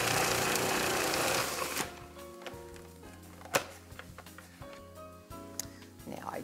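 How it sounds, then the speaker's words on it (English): Venetian tri-color cookie ingredients grate in a food processor: a loud, dense whirring for the first two seconds, then irregular clicks, knocks and rattling as the machine runs lighter. "we're just going to stick this into the food processor, and it fits quite nicely, and I'm going to grate it"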